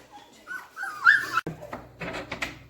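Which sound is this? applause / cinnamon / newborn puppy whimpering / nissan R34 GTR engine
newborn puppy whimpering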